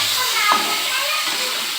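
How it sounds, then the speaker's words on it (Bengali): Dried red chili and bay leaf frying in hot oil in a kadai, a steady close hissing sizzle that holds evenly for the whole moment with no pauses. "শুকনো লঙ্কা আর তেজপাতা দিয়ে আমি ভাজছি"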